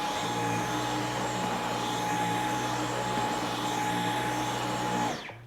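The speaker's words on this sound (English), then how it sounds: "There is a little bit of dirt over here, and I'm gonna just try and see if I can hoover it up." Cordless vacuum cleaner in eco mode running steadily on carpet with a constant, even motor whine and a faint high tone, loud and close, cutting off at the end.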